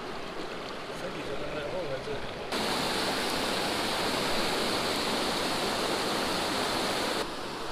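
Trout stream flowing where two side streams join, a steady rushing hiss of water that swells louder partway through and then drops back, with no talk.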